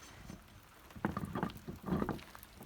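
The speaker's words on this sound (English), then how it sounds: "it's starting to rain on us" Rain starting to fall outdoors during tire work on a Dodge Grand Caravan, faint scattered patter of drops tapping irregularly in small bursts over low background noise.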